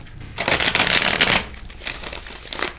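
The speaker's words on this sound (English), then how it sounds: "So I'm going to shuffle." A deck of reading cards being shuffled up close, with a loud, dense riffling flutter that swells for about a second, eases off, then returns in a shorter second burst. No one speaks.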